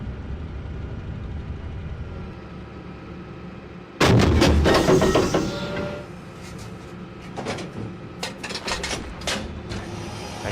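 Artillery fire called in during a military video game: a heavy barrage erupts suddenly over a low ambient rumble, with a loud blast and rolling decay followed by scattered sharp distant impacts.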